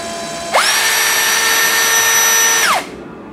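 Hasston 21V cordless brushless impact drill spinning freely with no load, a single steady high-pitched whine that starts abruptly, holds for about two seconds and winds down, loud and close.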